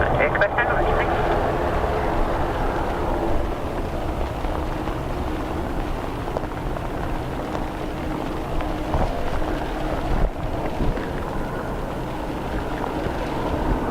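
Aircraft at a windy, wet Dublin Airport make a moderate, continuous engine rumble that is loudest at the start and then stays steady beneath wind noise and voices.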